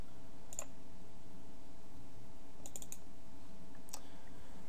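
A computer mouse gives a few faint, sharp clicks, three separate ones spaced a second or more apart, over a quiet background hum.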